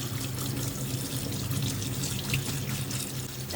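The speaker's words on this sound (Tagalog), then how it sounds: "Drain lang muna natin para maalis yung excess water." Water pours and splashes as excess liquid drains from salted, soaked mango, a steady close trickling rush with no talking.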